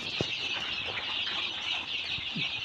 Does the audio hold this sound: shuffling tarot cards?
no